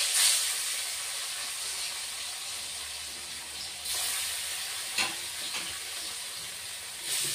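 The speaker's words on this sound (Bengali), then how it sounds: "তো মাছটা এখন তেলের মধ্যে দিয়ে দিই।" Pieces of rohu fish fry in oil in a home kitchen, giving a continuous hissing sizzle with a few brief bursts and spatters. No one speaks.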